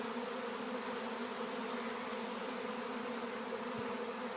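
A swarm of honey bees buzzes around a bait hive, a continuous, steady droning hum that holds even throughout, fairly close and heard alone without talk.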